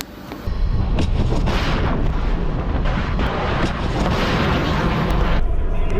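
A Russian Zircon missile launches from a warship in the Mediterranean Sea with a sustained, loud roaring blast that surges in and stays heavy and rumbling for several seconds.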